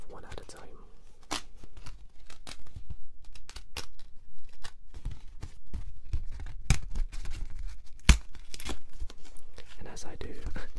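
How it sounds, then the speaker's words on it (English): Scratch cards are ripped off a strip one at a time, giving a series of short, close crisp tearing and crinkling snaps spread irregularly across the stretch, with soft talk in between. "So we'll rip these off one at a time."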